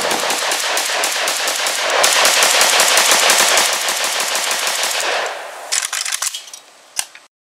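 An RPK-74 machine gun fires on full auto in one long, loud, continuous burst lasting about five seconds, then trails off into a few scattered shots and echoes.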